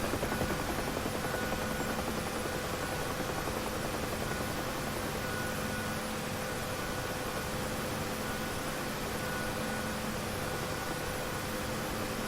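Bell UH-1 Huey helicopter landing in the DCS flight simulator on the Syria map, a loud, constant rotor and turbine drone with steady whine tones throughout, no talking.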